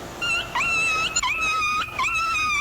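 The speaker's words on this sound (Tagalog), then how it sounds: "May aso, maingay tuloy." Close, loud dog whimpering: several drawn-out, high-pitched whining cries in a row, with short breaks between them.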